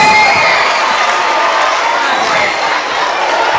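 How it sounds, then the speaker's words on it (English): A crowd at a school back-to-school pep rally cheering and applauding loudly and steadily after a dance, with shouts and whoops over a dense wash of noise. "Round of applause."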